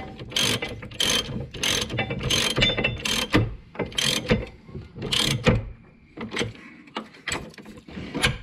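A ratchet with a 21 mm socket snugs caliper bolts on a C5 Corvette, giving a close, steady series of rapid clicking strokes in quick repeated bursts with no voices.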